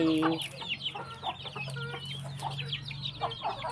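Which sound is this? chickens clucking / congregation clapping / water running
chickens clucking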